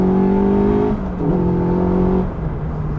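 A Caterham Superlight R300 with a 2-litre Ford Duratec engine revs loudly and close up, its steady engine note holding, dipping briefly near the middle, then rising again.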